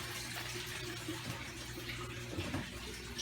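Steady water running in a backyard aquaponics system, flowing from a clear fish pond holding goldfish and koi toward a pea-gravel grow bed, a continuous soft gush close by with no talking.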